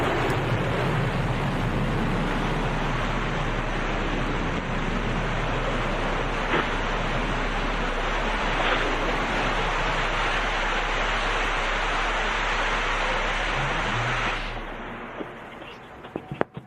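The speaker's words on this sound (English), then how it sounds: "Engine relight." Blue Origin New Shepard rocket booster relighting its engine during landing at Launch Site One, Texas: a loud, steady, roaring rumble that holds for about fourteen seconds, then cuts off abruptly, leaving faint crackles.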